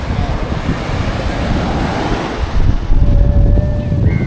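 Sea waves breaking at Arthunkal beach: a loud, continuous rush of surf mixed with heavy wind buffeting the microphone, with the roar swelling near the end.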